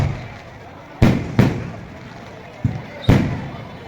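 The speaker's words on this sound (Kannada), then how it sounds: "ಪಟಾಕಿ ಹಚ್ಚಿ ಸಂಭ್ರಮಿಸ್ತಾ ಇದ್ದಾರೆ" Four sharp firecracker bangs go off at irregular intervals outdoors during a Ganesh immersion procession in Hospete, each a loud crack that quickly fades, over a steady background murmur.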